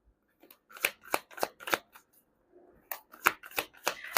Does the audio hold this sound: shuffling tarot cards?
yes